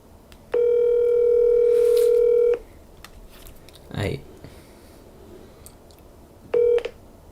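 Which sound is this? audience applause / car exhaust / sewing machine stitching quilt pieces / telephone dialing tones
telephone dialing tones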